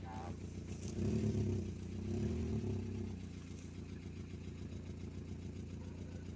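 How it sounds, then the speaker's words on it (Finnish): A Volkswagen Polo 1.4-litre petrol engine, started after sitting unused for two and a half years, idles with a low, rough, diesel-like clatter, steady and fairly quiet, briefly swelling louder near the start. "Kuulostaa ihan dieselille tää auto."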